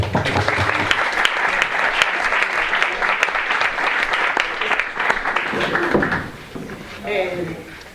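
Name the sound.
audience applause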